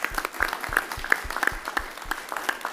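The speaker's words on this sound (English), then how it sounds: "So let's give her a big round of applause." Audience applause at a city council meeting honoring a high school art student, steady moderate clapping in a hall with distinct individual claps standing out, heard alone without talk.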